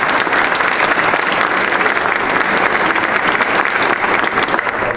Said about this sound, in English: Let's just give them all a round of applause here.